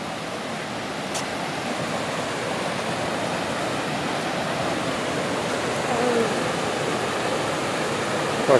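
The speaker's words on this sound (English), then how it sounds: "You can actually see the top of the little waterfall from here." Water rushes continuously over a little waterfall two or three feet tall in Bankhead National Forest. The broad, steady hiss stays even and fairly close throughout, with a faint brief bird-like chirp near the end.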